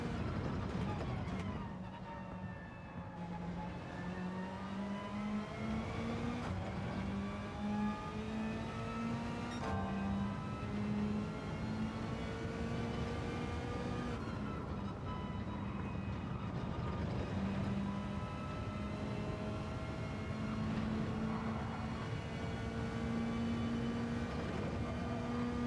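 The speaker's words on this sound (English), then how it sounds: "you can really over rev it in fourth" Race car in Gran Turismo 7 daily race practice, engine screaming at high revs in fourth gear: a steady, faint, sustained whine that rises and dips slightly across the lap, alone without talk.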